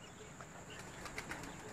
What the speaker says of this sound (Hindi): ये राजा कासिम साहब का जी एक कबूतर है